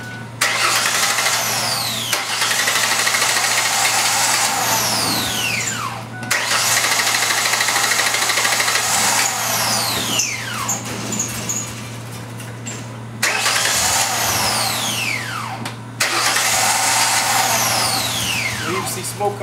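A car engine after chemical cleaning cranks and catches in repeated bursts, running roughly and loudly with a steady low hum underneath, cutting out briefly between starts over a long stretch.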